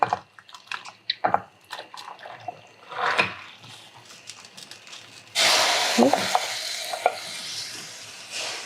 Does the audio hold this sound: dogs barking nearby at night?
no